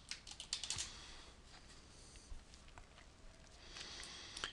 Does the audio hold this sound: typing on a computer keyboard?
yes